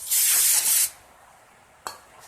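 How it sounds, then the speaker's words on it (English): A short, close burst of NAPA parts cleaner sprays onto the axle shaft of a 2003 Craftsman M110 riding mower, a bright hiss lasting under a second, followed by a faint brief click. "Have some NAPA parts cleaner here, just spray and clean all that up."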